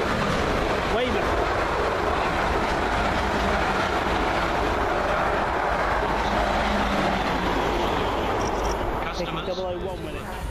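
A train rumbles and clatters steadily into a platform on the South West Main Line, a loud continuous roar of wheels on track, with a station voice over the noise.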